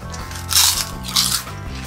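Two crisp, loud crunches a moment apart as a hollow, cheese-flavored potato snack ball is bitten and chewed up close, with a low hum underneath.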